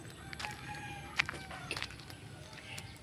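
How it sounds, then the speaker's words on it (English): Faint chicken clucks and short calls come from a distance amid quiet outdoor background noise. "There's the chicken."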